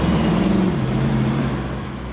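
Mercedes-Benz Maybach Accelero producing a loud, steady low engine rumble whose pitch drifts slightly downward, with no voices.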